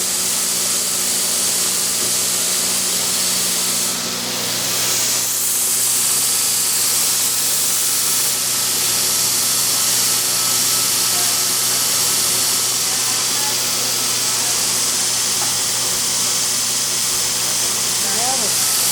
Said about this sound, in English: Now Mike's moved over to the 240 belt from the 120.